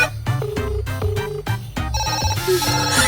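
A mobile phone in a Malayalam film scene plays a loud, melodic stepped ringtone that continues steadily throughout, growing brighter near the end.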